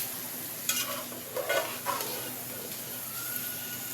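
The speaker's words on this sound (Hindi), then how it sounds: "इसको भी साथ ही कीमे को भून लेना इसी प्याज में।" Minced meat keema fries with browned onions in a pot, a low steady sizzle broken by a few scraping stirs of a spoon, fairly faint and close.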